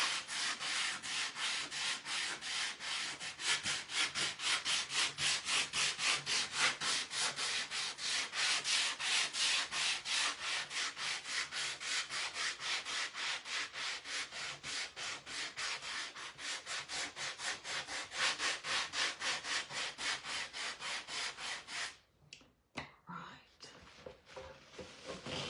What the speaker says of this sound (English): Going to take the sander and go over it just a little bit.